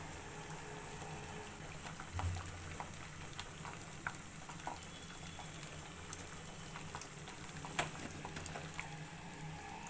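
Sambar bubbling in a pot on a stove, a soft steady simmer with faint popping and crackle, fairly quiet and continuous with no voices.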